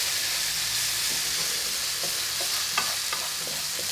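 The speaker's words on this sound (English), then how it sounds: "you can hear the sizzle coming off because of the water content" Prawn mixture fries in a pan with a continuous watery sizzle and hiss as the moisture cooks off, with a few sharper pops and crackles near the end.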